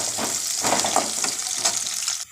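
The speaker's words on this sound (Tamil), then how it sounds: "இதை வந்து நல்லா கருணக்கிழங்கு வந்து செவக்க வேக வைப்போம்." Elephant foot yam frying in a pan, a steady close sizzle with soft stirring scrapes, ending abruptly.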